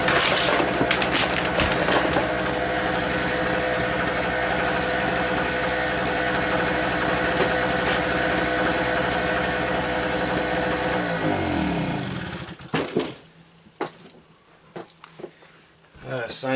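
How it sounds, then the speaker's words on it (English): A generator at a tiny house build runs loud and steady with a droning engine hum, then is shut off and winds down after about twelve seconds, leaving quiet country ambience while a person talks. "Shut off the generator."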